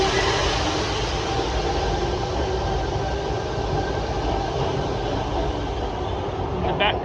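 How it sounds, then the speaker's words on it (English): A Sydney Trains train rumbles steadily nearby as it pulls away from Martin Place station, a continuous low roar with a faint whine, and a short clank near the end. "And this train's leaving."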